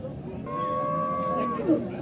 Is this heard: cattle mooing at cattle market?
yes